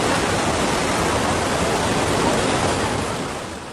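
Floodwater from the overflowing Silandak river in Semarang rushes loudly and continuously, a dense broadband roar close by that holds steady before easing slightly at the end.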